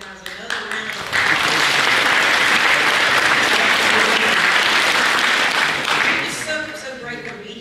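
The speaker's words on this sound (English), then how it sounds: "I just want to give you guys another round of applause." A crowd at a senior awards ceremony breaks into sustained, loud applause lasting several seconds, then the clapping fades out.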